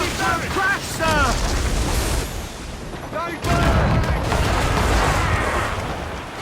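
Naval cannons boom in Assassin's Creed Rogue during a ship-of-war battle, heavy broadside blasts rumbling and rolling in bursts, mixed with shouting crew voices and the crash of the sea.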